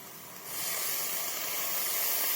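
Soy sauce hits vegetable chow mein in a hot pan, setting off a sudden rush of steamy hissing that swells after a quiet start and holds steady and close.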